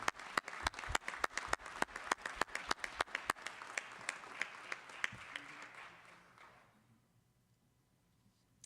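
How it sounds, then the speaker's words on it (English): Applause at a city council swearing-in ceremony, a steady run of crisp individual claps over a clapping crowd, moderately distant, dying away into quiet near the end. "Let's give all these guys a big round of applause."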